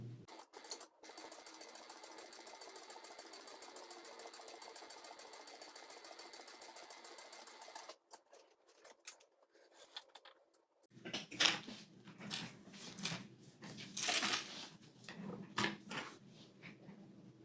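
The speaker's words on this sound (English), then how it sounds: "So now I'll just top stitch at 1/8 inch seam allowance." A sewing machine top stitching a lining at a narrow seam allowance runs in a steady close whir for about eight seconds, then stops, followed by handling clatter and fabric rustle.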